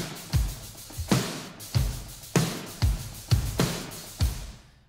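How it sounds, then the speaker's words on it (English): Ensemble-recorded acoustic drum kit sample playing heavy kick drums, with seven loud, booming hits in a steady rhythm, each with a sharp attack and short decay, close and alone with no talking. "The next one is actually also an acoustic drum kit or drum set"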